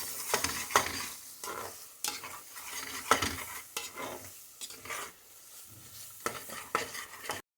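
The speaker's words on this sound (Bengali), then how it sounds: "এবারে ভালো করে আবার নেড়ে চেড়ে নেব।" Spices sizzling in a hot pan for Chettinad chicken, stirred with a spoon in repeated scraping strokes over steady frying, close and clear.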